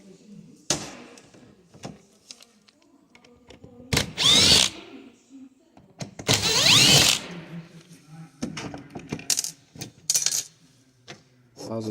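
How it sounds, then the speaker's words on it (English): A power screwdriver whirs in two loud short bursts while backing two screws out of a General Motors Chevrolet automotive water outlet assembly, with clicks and small handling knocks of parts between them, close up. "I'll pull these two screws out,"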